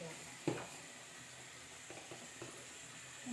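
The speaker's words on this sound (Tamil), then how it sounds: "நல்லா சேர்த்து நல்லா கிளறி விடுவோம்." Ground masala being stirred into a gooseberry pickle in a pan: soft scraping and an occasional clink of a spoon over a faint, steady sizzling hiss, with no talk.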